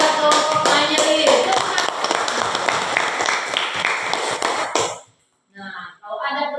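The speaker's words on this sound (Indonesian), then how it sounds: "Nah, tepukan buat kelompok Anyelir" A classroom of young pupils claps for a student group, with brisk, close, lively clapping for about five seconds before it stops abruptly and a voice speaks.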